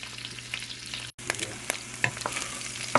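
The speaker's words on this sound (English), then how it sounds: "we're gonna let these sausages brown, and then we'll go in with our other vegetables" Smoked sausages browning in oil in a pan for a cabbage dish, a steady crackling sizzle with scattered pops and spatters, close and continuous, with a brief drop near the start.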